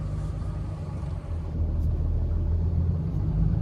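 Car driving on a highway during a road trip toward Florida, heard from inside as a loud, even low-frequency road rumble with no talking.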